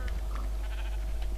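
Sheep in Minecraft bleating loudly and close, a steady wavering bleat that continues through the moment with no speech over it.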